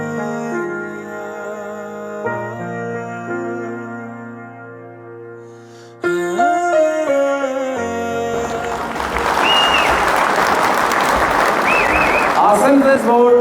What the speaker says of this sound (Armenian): ձեր մաղթանքները կարող եք ցույց տալ միայն ծափերով այդպես որ լսենք տենանք